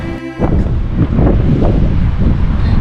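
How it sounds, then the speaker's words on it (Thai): Strong outdoor wind buffets the microphone in loud, rumbling gusts that start abruptly and keep surging unevenly throughout, with no voices. "ลมพัดเอง"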